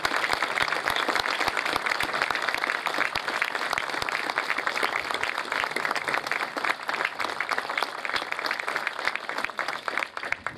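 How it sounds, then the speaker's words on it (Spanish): A crowd at a rural town expo in Buchardo claps in a sustained round of applause in memory of a former mayor, a fairly quiet but dense, even patter of many hands lasting about ten seconds. "Propongo un fuerte aplauso en su memoria por todo lo que hizo."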